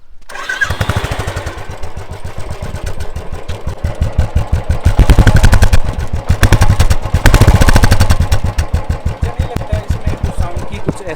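A Royal Enfield Classic 350 motorcycle with a changed silencer runs close by, its single-cylinder engine thumping in a steady loud rhythm that swells with throttle blips and settles back, with no talk over it.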